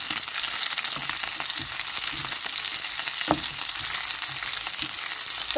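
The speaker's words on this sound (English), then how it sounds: "make sure that you fry your beef on a low heat" Beef frying on low heat for a stir fry, a constant close sizzle with occasional spatula knocks and stirring, no voices.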